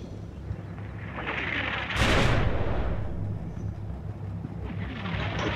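Artillery rounds land in the video game Combat Mission Cold War, with a loud broadband blast near two seconds over a continuous low rumble of distant fire and battle noise.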